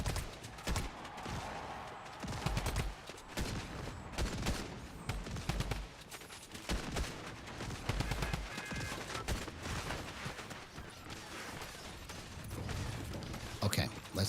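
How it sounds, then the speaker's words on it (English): Video game shotgun and assault rifle fire, repeated punchy shots and rapid bursts at moderate level, mixed with a voice talking over the action. "We need some shotgun, AR, shotgun."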